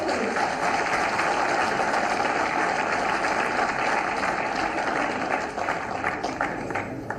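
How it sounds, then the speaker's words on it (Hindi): Steady, continuous clapping from an audience, a dense wash of applause held at an even level throughout. "मिलके एक बार फिर से तालियां हो जाए जोरदार से"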